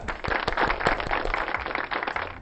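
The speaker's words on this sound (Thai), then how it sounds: "ครูปรบมือให้เลยครับ" A teacher clapping hands, a quick run of close, sharp claps in an uneven rhythm over about two seconds, no talking.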